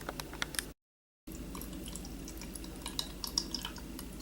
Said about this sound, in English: So I'm draining off the water.